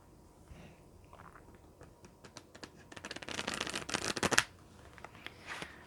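Game of Thrones tarot cards being shuffled, a soft papery riffle that builds into a dense, quick burst of card flicks before easing off, close and fairly quiet with no talking.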